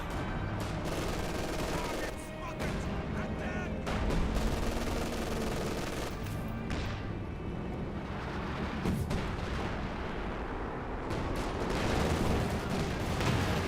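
An MG-42 machine gun firing in a Company of Heroes 2 battle, its sustained bursts mixed with heavy rumbling booms and scattered rifle cracks. The dense barrage runs throughout, with voices faintly present.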